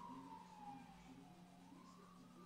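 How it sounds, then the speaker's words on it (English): A police car or ambulance siren passes along a city neighborhood street, its rising and falling wail faint and distant under low background hum. "And there's cops passing by or an ambulance."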